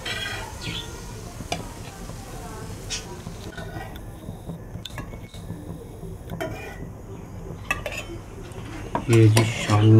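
Freshly fried shami kebabs are transferred onto a plate, with soft clinks of dishes and cutlery and light scraping throughout, and a louder clatter of utensils near the end.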